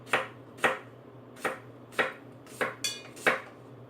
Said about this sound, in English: It's that stainless steel pot.